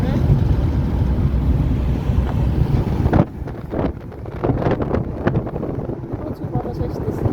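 Strong wind buffets the microphone on the Jamuna bridge over the river, a loud, steady roar that turns to gusty, uneven bursts partway through.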